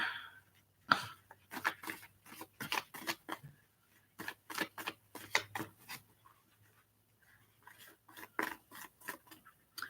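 Playing cards being shuffled close by, a run of quick crisp riffling bursts and soft slides repeating in irregular rhythm over a faint steady hum, with no talking.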